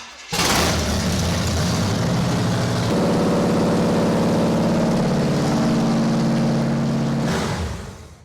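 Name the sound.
1981 Cadillac engine running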